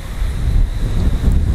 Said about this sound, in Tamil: காற்று சூப்பர் காற்று கைஸ்.